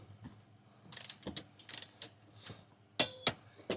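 A 3/8-drive torque wrench set to 33 foot-pounds ratchets through a few soft mechanical clicks, then gives two sharper, louder clicks near the end as it reaches torque, close and fairly quiet with no talking.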